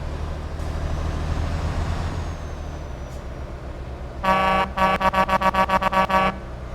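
MAN truck in the Euro Truck Simulator 2 video game: a low diesel engine rumble runs throughout, then loud horn blasts sound, first one long toot and then a rapid string of short honks.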